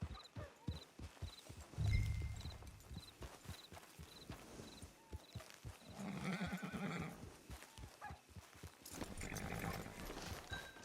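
A horse in the Red Dead Redemption video game whinnies and clip-clops on the ground near a camp, with the hoofbeats as a steady rhythm and the neighing rising loudly over them at a few moments.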